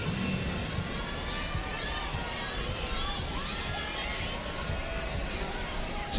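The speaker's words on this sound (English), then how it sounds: "It's a great crowd we have here inside" A large indoor crowd roars steadily at a UAAP Season 82 women's volleyball match between De La Salle and Ateneo in the Mall of Asia Arena, with a dense, continuous wash of cheering and shouting and no clear break.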